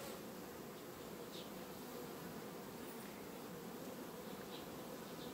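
Honey bees swarm densely around a beehive after a swarm returns to the hive it left, making a steady, unbroken buzzing drone that fills the whole stretch without any talking.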